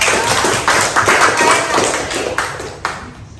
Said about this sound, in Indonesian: Tepuk tangan dulu buat Bung Nanda kelompok 2.